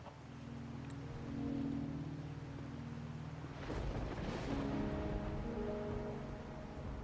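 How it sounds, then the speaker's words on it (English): Steady rain in the video game Wuthering Waves hisses throughout with a soft low hum beneath, swelling louder about halfway through; no voices. "Seriously, why is it raining every time we come here?"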